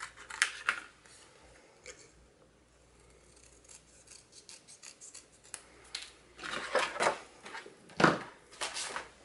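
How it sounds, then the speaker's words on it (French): Scissors snipping around a small paper label for scrapbook card-making, with sparse close crisp cuts and light paper rustling, then a louder burst of rapid snips near the end, with no voices. "je vais couper tout autour afin de faire comme une petite étiquette"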